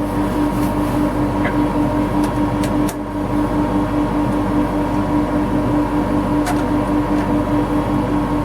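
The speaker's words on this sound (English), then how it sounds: "I'm going to turn that extractor off." A dust extractor in a woodturning workshop drones on steadily with a constant low hum and tonal whine, broken by a few brief clicks and knocks nearby.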